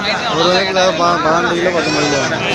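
Goats at the Samayapuram livestock market bleat in wavering, overlapping cries, several animals close by calling repeatedly against a busy background of crowd noise.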